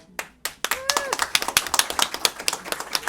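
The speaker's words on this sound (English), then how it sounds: "we got to give ourselves an applause" A small group clapping at a community fundraiser, a few sharp separate claps building into quick steady applause, with a voice briefly heard early on.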